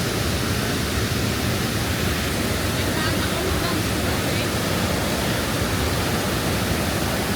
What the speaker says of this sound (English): So this is Lemonsjøen Waterfall.